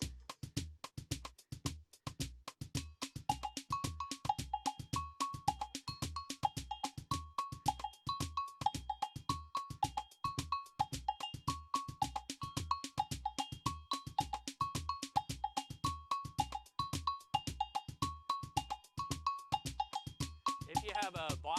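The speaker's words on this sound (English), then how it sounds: "and that is the bell." A samba bell is struck in a steady, driving rhythm that alternates between two pitches, its bright metallic strokes layered over a constant pulse of low percussion.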